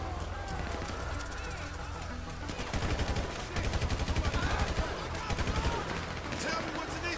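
Rapid bursts of automatic gunfire rattle out in GTA V, coming in repeated clusters of quick shots at mid distance over a busy background of ongoing game noise.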